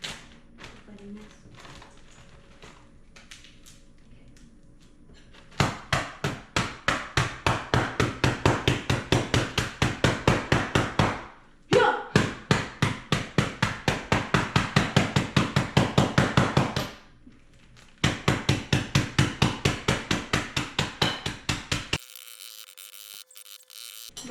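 A big spoon mashes something down toward a sandy texture, making a rapid series of even rhythmic thumps in three long bursts separated by short pauses, fairly quiet overall.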